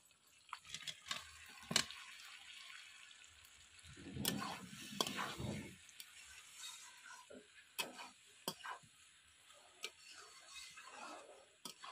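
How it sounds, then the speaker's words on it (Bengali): Soft stirring and scraping of boiled potatoes in a pan, with scattered light ticks and taps of a spoon and a quiet sizzle, faint and close with no talking. "এবার দিয়ে দেবো সিদ্ধ করে রাখা আলুটা।"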